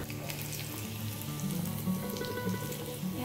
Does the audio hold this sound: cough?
no